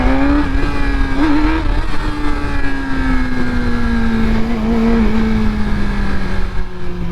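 A Yamaha R6 sport motorcycle engine roars loudly and steadily nearby, its pitch holding high with slight wavers, a sustained hard pull without any talking.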